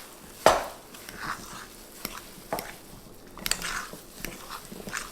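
Cheese is worked into keto biscuit dough with a spoon, producing a sharp knock near the start and then soft irregular scrapes and dull thumps in a bowl, close and without talk.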